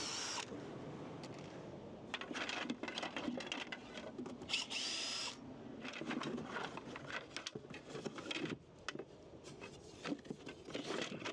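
A power drill backing screws out of wooden slats under a bed in a garage storage area, bursts of whirring with pauses and shifting handling clatter, close and moderately loud.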